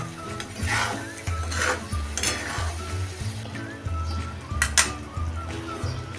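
Stirring a fenugreek and raw mango side dish with jaggery in a hot pan: rhythmic scraping strokes of a spoon against the pan over a soft sizzle, with occasional metallic clinks.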